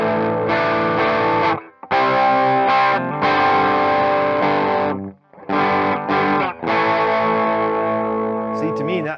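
An electric guitar played through a drive pedal into a clean amp gives a crunchy, saturated tone, with chords strummed loud and close in several bursts separated by short gaps.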